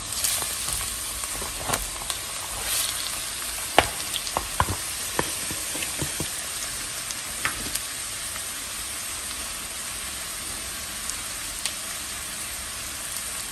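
Half a kilo of ground beef and half a chopped onion frying steadily in a pan, a constant close sizzle with occasional clicks and scrapes of stirring.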